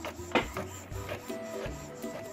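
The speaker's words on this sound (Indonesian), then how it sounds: "nanti di printer dia memberi respon seperti ini ya teman-teman, mencetak ya" An Epson L5290 inkjet printer prints a page, with irregular mechanical clicks, whirs and feed thumps at close range, fairly quiet with no speech.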